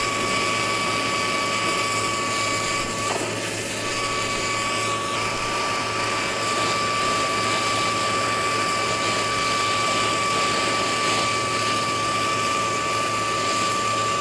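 A torch flame roars steadily and loudly while melting gold bullion rounds with borax in a crucible, a continuous broad rushing hiss with a faint high whine, no pauses throughout.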